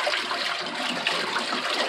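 A Kuppet portable washing machine churns clothes in soapy water, giving a steady, close sloshing wash noise that runs the whole time without breaks.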